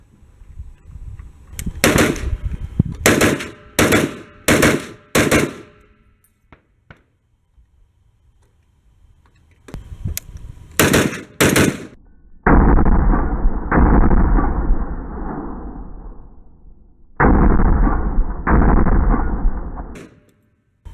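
A .308 rifle in a multigun setup firing 155-grain full-power remanufactured ammunition, loud sharp shots in quick strings of five, then three, then a few heavier booming reports with long ringing echoes.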